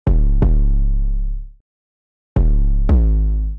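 Two pairs of kick drum hits with long, deep 808 bass tails ringing out, separated by a brief silence; sparse, heavy and loud.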